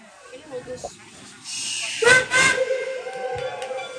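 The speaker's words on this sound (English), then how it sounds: "y'all come along with us as we depart this train station" A steam whistle blows loudly over a strong hiss of escaping steam as a train departs the station at Cass Scenic Railroad, West Virginia, with rumbling in the background.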